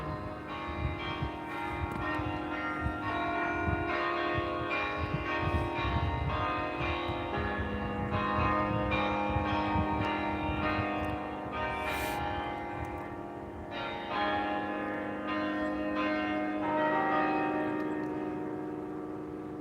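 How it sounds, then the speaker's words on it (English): Church bells ring together in a long, dense, continuous peal. Overlapping tones sustain and blend for the whole stretch at a moderate, steady level, and no voices are heard. "some of the bells are warming up a little bit slower than the other ones"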